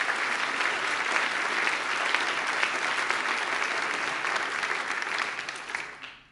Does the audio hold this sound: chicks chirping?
no